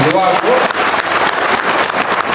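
Loud audience applause at a Basava Bhima Sangama program in Kudalasangama, a dense continuous wash of clapping that fills the clip.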